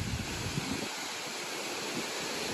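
Roaring up close at a Jiuzhaigou waterfall, the water makes a dense, steady, broadband rush that fills the whole short stretch without a break, with no voices over it.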